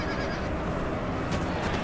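In the Napoleon: Total War video game, horses neigh and whinny during a battle. The calls are partly buried in a dense wash of constant battlefield noise, with a few brighter bursts near the end.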